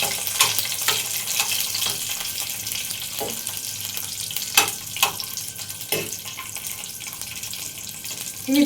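Cashews frying in ghee in a kadai on a stovetop, a steady soft sizzle with scattered clinks and stirring scrapes, close and moderately loud, no voices.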